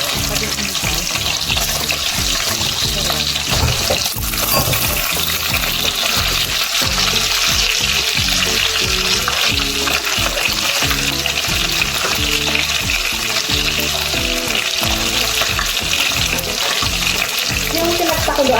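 Fried chicken pieces sizzle loudly in a pan of sautéed onion and garlic, a steady close crackle with stirring scrapes throughout.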